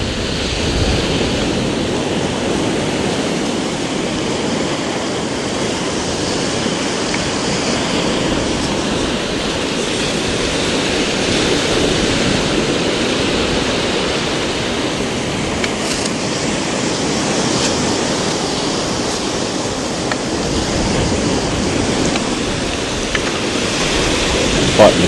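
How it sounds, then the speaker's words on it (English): Sea waves and tide wash along a beach in Kent in a constant broad roar close to the microphone, mixed with wind buffeting and faint voices underneath. "Fighting the tide now."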